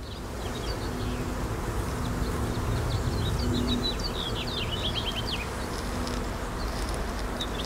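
Honey bees buzz in a dense, continuous hum at an open hive on a homestead during a first-month inspection, with scattered bird chirps faintly in the background and no talk.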